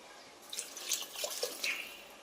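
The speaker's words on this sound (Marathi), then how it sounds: "यावर पाणी आपल्याला अर्धा इंच बोट वरी राहील इतपत पाणी घालायचं आहे" Water poured into a pot of masala rice with potatoes and coriander, a soft trickling and splashing stream running for about two seconds, fairly quiet and close, with no talking.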